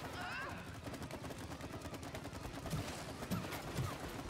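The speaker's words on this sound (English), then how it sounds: "I'm just shooting everywhere" Rapid bursts of gunfire in the video game It Takes Two sound under players' ongoing talk. The shots are fairly faint and blend into a steady background rattle, with a few sharper thumps near the end.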